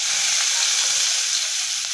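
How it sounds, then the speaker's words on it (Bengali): Chopped onion fries in hot oil with white cumin seeds, left over from frying potatoes, giving a loud, steady, close sizzle with occasional faint stirring scrapes. "কুচানো পেঁয়াজটা একটু লাল লাল করে ভাজবো।"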